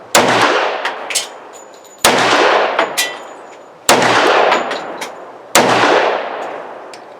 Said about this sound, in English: this is a Tanfoglio Witness Pro in 10 millimeter